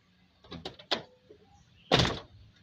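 An Isuzu Panther car door swung shut, a couple of light knocks followed by a firmer slam, close and alone in a quiet garage.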